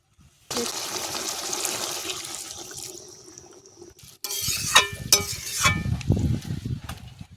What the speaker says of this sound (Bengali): এবারে এর মধ্যে দিয়ে দেবো গরম জল